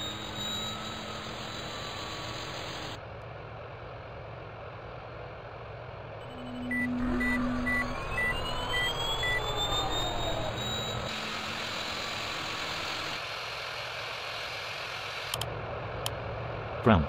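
Airliner engines spooling up during startup in Real Flight Simulator (RFS), a steady broadband roar with a rising whine that grows louder partway through and holds, with a faint beep, no speech.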